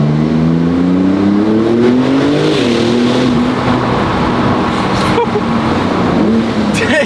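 A Porsche 911 (992) Turbo S with Sport exhaust accelerating hard on a forest road, its engine note climbing in pitch through the revs, then a gear change and a continued loud, close roar.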